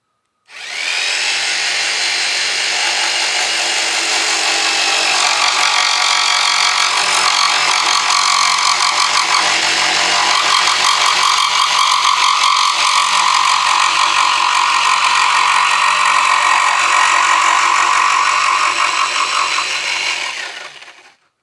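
A vintage Black & Decker 7504 jigsaw cuts through wood in one long, loud, steady buzz with a rattling, vibrating edge, shaking heavily, running nonstop for about twenty seconds.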